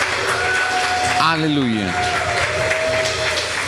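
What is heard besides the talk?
church congregation applause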